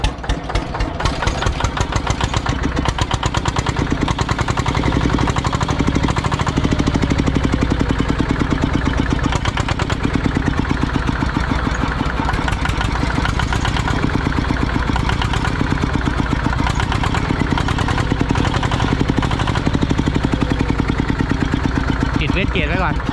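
A turbocharged engine fitted to a farm tractor runs steadily and loudly throughout, a close, continuous mechanical drone with a rough, knocking texture and no break in level.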